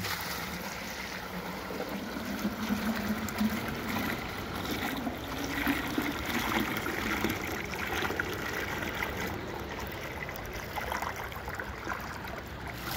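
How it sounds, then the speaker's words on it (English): Water from a low head turbine test setup pours into a 6 gallon bucket, a steady rushing splash and trickle heard outdoors for about twelve seconds at moderate, even loudness. "that's a 6 gallon bucket. It takes 12 seconds to fill up"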